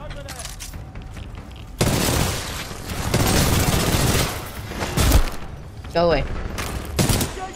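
Gunfire in the Titanfall 2 video game, bursts of loud, dense shots filling most of the stretch with a few sharp impacts, heard alongside a brief spoken voice.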